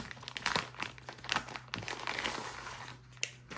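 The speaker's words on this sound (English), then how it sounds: "First, let's unwrap this slowly." Crinkling plastic and paper packaging of a DJI Mic Mini wireless microphone being slowly unwrapped, continuous close rustling with a few sharper crackles, no voices.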